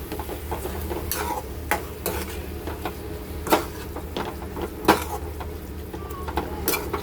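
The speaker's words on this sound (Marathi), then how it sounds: "मिक्स करूया सगळ्यांना" Paneer bhurji being stirred in a pan, with a soft steady scraping and a few sharper clinks of the utensil against the metal scattered through it.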